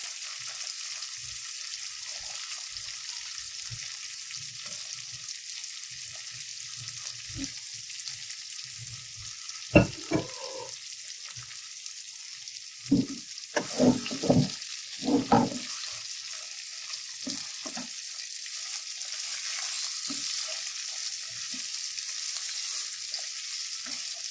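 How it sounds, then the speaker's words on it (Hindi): Fried chicken pieces being stirred into a sizzling Chicken 65 masala, a steady frying hiss throughout with scattered clacks and scrapes of the spoon against the pan clustering midway, close and fairly loud. "अब मैं इसके अंदर चिकन मैंने फ्राई कर ली थी और मिक्स करूँगी"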